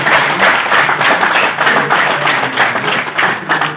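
Audience clapping at a press club ceremony honoring newly elected office bearers, a steady dense patter of many hands sustained throughout at close range with no talk over it.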